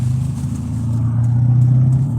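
A car with no fluid in it runs with its engine droning low and close. The rumble is steady and loud, rises slightly in level partway through, and no one talks over it.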